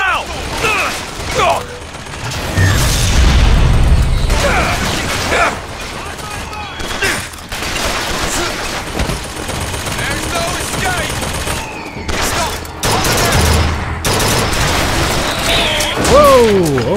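Turret gunfire in the game Bioshock Infinite, loud rapid bursts of shots with mechanical clanks and crashes, mixed with game sounds and a voice talking over it.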